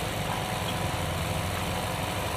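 A vacuum pump running steadily while a refrigerator's freon system is serviced, a loud, even mechanical drone with a constant low rumble and hiss, close by and with no talking.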